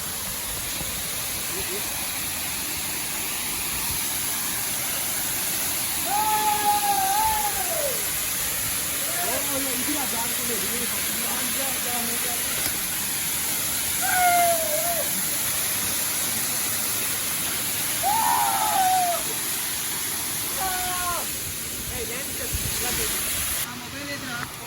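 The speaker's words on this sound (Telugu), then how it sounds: "ఇదిగోండి ఇక్కడ కనిపిస్తుంది కదా ఇదే థర్డ్ వాటర్ ఫాల్స్" Steady rushing roar of the third waterfall at Dallapalli fills the air continuously while people talk over it.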